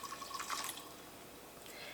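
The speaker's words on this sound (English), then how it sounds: "pour that in the funnel." Homemade amaretto liqueur is poured into a funnel, a faint, close trickle with light drips and splashes over a quiet room.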